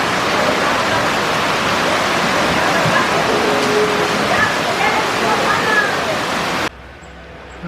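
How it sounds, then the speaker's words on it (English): Ocean waves at the shore in Raja Ampat, a steady, loud broadband wash of surf that continues unbroken before cutting off abruptly near the end. "hopefully you can still hear above the sound of the waves"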